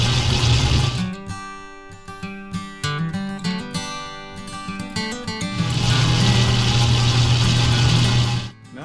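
A metal lathe faces a grade 2 titanium ring blank, giving a steady tonal whine and chatter with a strong harmonic hum, fluctuating through the middle before settling into a continuous cut, no talk.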